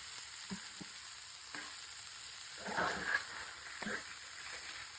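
Ivy gourd (dondakaya) frying in coconut oil, a faint steady sizzle with a few soft stirring scrapes and clinks, quiet and continuous with no talking.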